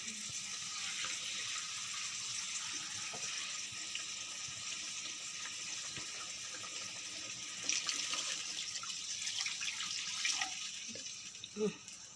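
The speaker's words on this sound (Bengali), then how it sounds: "এবারে পরিমাণ মতন জল দিয়ে দেওয়া হচ্ছে ঝালের জন্য" Water poured into a pan of pabda fish curry with mustard-poppy seed paste, a steady broad pouring rush running the whole time with a few small splashes and clinks near the end.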